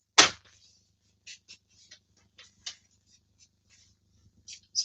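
Card stock is cut for a handmade swing card, one sharp snip at the start and then a string of small, soft, spaced cutting clicks in a quiet room, no talk.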